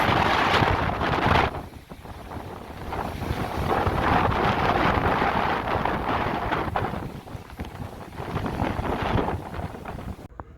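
Powerful hurricane gusts roar and buffet a microphone on Dauphin Island, Alabama, a loud continuous rushing that swells and dips without a break for the whole stretch.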